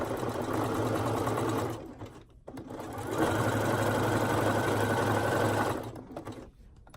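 A sewing machine stitches stretched elastic onto swimsuit bottoms with a fast, steady, close-up whirring hum in two long runs, separated by a brief pause and stopping near the end.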